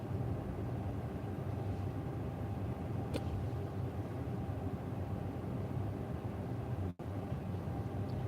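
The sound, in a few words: morning road traffic heard from inside a car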